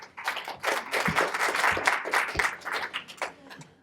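Audience at a venture capital panel and startup pitch event applauds a presenter with dense, steady clapping that swells and dips over several seconds at moderate volume.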